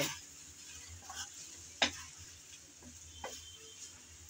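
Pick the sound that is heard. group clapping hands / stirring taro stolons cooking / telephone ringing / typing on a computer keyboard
stirring taro stolons cooking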